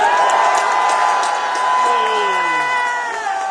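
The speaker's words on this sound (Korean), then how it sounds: "뜨거운 박수를 한번 보내주십시오" A large outdoor crowd at a political street rally in Busan cheers and applauds loudly. Clapping, whoops and shouting voices run continuously throughout.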